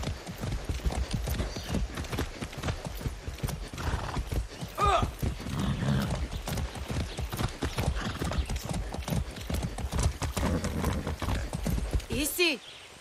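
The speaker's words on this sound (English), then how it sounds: "That's a good horse." In the video game Far Cry 6, a horse's hooves clip-clop in a quick, steady rhythm up close, broken by two whinnying neighs, one midway and one near the end, with a voice talking over parts of it.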